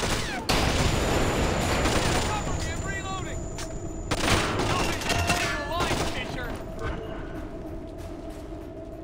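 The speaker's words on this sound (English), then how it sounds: "I'm using the silence weapon. Shooting them from somewhere where they can't see." Suppressed weapon shots fired in Splinter Cell: Conviction, a few sharp muffled bursts spread through a busy game mix, with someone talking over parts of the action.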